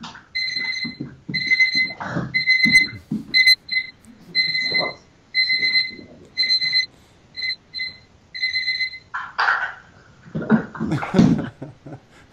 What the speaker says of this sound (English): Alarm clock that doesn't work.